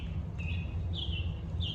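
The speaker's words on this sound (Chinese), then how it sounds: "你听早晨鸟叫" Morning birdsong from robins in a backyard garden, a few thin high chirps and short whistled phrases rising over a low steady outdoor hum, fairly faint.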